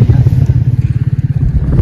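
Several motorcycles of a bike riders' group pull in at a waterside spot at Beach Vizag Colony, Hyderabad, their engines a loud, close, pulsing low rumble throughout with faint background voices.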